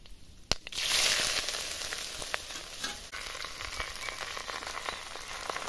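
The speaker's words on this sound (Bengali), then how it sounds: "চালগুলো আমি ভাজে নিচ্ছি, নাড়ি চাড়ি ভালো করে ভাজবো" Rice frying in white oil with bay leaf and whole garam masala spices for pulao, a steady soft sizzle with faint crackles and occasional stirring clicks, close up with no voices.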